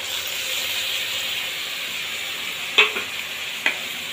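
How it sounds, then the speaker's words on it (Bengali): Oil sizzling with a steady hissing crackle in a pan, close and even, with two sharp clinks near the end, as a chilli, turmeric and salt paste is about to go in for Bengali cauliflower and prawn curry. "নিয়ে এইটাকেই আমি এই তেলের ওপর দিয়ে দেব।"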